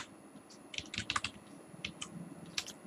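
Close-up computer keyboard clatters in uneven bursts of quick keystrokes while HTML code is typed, with short pauses between clusters and no talk.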